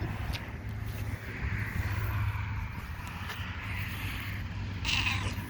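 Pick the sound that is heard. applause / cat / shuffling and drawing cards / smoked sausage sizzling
cat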